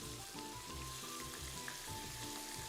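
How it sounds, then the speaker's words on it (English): Spicy beef sizzles as it fries in a pan, a steady, fairly quiet crackle and hiss throughout with no talking. "I hope my microphone will pick up over this sizzling"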